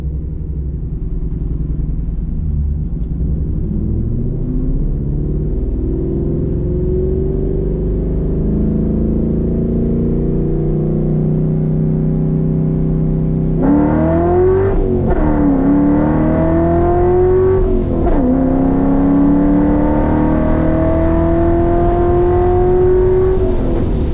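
Roush Mustang engine accelerating from the cabin, a steady rising drone that swells louder partway through, with the pitch climbing through gear changes and dipping briefly at each shift, continuous and close.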